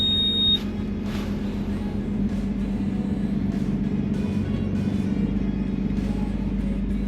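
A low-loader lorry's engine, just started, settles into a steady, loud diesel idle with a constant low hum and a faint beeping near the start.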